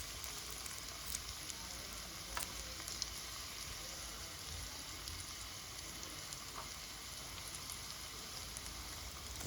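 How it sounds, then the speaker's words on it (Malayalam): Chicken vada pieces sizzle in hot oil in a small pan, a steady dense frying hiss with faint crackles that runs unbroken and fairly close throughout, with no voices. "ഓരോന്നും നല്ല ചൂടായ എണ്ണയിലേക്ക് ഓരോന്നും ഇങ്ങനെ ഇട്ട് കൊടുക്കാം"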